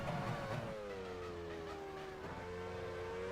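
Simulated Formula One race car engines from the video game F1 Challenge 99-02, a steady high engine whine with pitch sliding down and rising again as cars pass, over continuous loud rumble.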